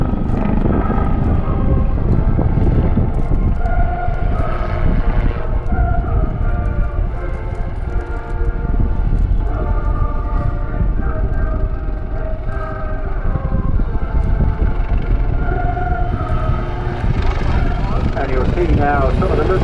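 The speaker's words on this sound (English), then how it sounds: "So here running in now for an impressive, short, sweet display as well, Lieutenant Jim Carver" A Royal Navy Wildcat helicopter flies a display at the Southport airshow in 2022. Its loud, steady rotor and engine roar runs throughout with wind noise, and a commentator talks over it.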